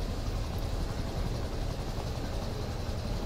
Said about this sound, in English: How do I cancel the chopper gunner?